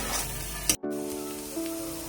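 Potatoes, onion, garlic, cinnamon and bay leaf sizzle together in white oil. A steady close hiss breaks off briefly, then resumes more quietly while tonal sounds run underneath.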